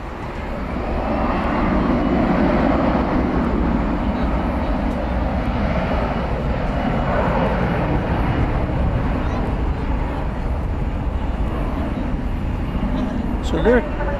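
Jet airliners at DFW Airport at night, a steady, loud roar of engines rumbling through the whole stretch, broad and sustained as planes pass overhead, with a voice talking over it.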